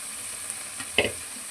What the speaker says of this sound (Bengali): একসাথে মাছ এবং আলু ভাজি করে নেব।